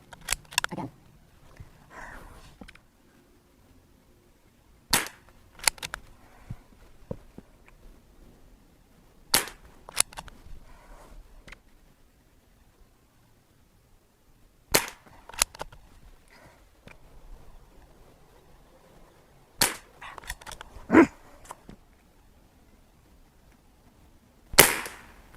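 A Seneca Dragonfly MK2 .22 pneumatic pump air rifle fires Polymag pellets: about half a dozen sharp, close cracks spaced several seconds apart, each followed by faint clicks and handling noise in the quiet gaps.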